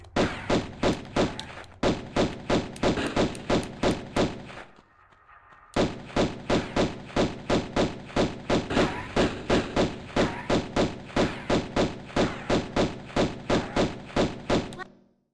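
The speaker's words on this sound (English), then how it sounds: "I love that he just keeps shooting you!" Enemy gunfire in Tomb Raider 1 Remastered, loud rapid regular gunshots thudding in a steady rhythm, with a brief pause in the middle before the shots resume.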